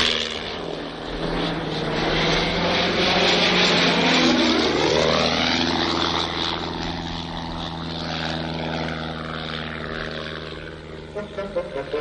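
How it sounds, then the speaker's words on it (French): A propeller aircraft in a 1968 Thunderbirds film flies and comes in to land, its loud steady engine drone holding with shifting pitch before easing slightly near the end. "L'avion va atterrir tout seul."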